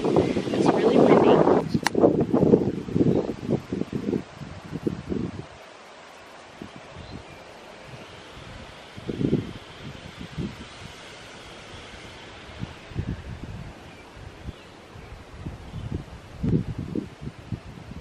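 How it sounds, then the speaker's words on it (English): Gusty wind roars through trees with rustling leaves, loud at first then easing into quieter surges and bursts. "It's really windy."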